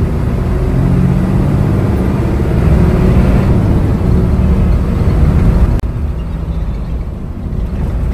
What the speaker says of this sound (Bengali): এই বাসের ইঞ্জিন নয়েজ এবং কেবিন নয়েজ কেমন ছিল